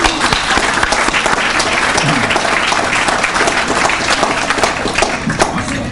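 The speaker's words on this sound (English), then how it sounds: "Let's give them a big hand of applause." Loud, steady applause from an audience at a 16th anniversary celebration, greeting the evening's entertainers; dense clapping carries on without a break for the full stretch.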